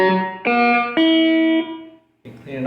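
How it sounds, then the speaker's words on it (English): Distorted electric guitar through a First Act M2A-15 amplifier, several sustained, gritty chords struck in turn and left to ring, then a short pause before another strum. "if you listen to the distortion on this"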